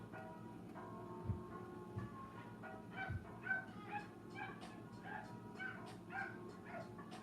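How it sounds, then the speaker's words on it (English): A dog barking outside, a string of distant, muffled barks and yips scattered over a quiet indoor room tone, with faint talk in the background. "Can you hear my dog? He's barking outside."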